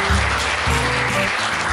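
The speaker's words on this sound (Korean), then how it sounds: "큰 박수" Loud applause greeting a Pilates guest on a talk show, a continuous burst of clapping over a low musical background, short and full from start to finish.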